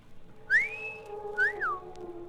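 A man whistles twice in a classic radio drama, a rising wolf whistle followed by a shorter up-and-down whistle, clear and close over a faint steady background hum.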